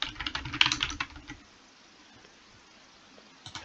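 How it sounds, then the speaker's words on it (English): Rapid clacking of a computer keyboard for about a second, close and fairly quiet, then near silence with a faint tap at the end. "Hard typing over my microphone here."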